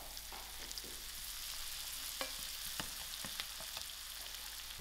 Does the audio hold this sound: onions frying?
yes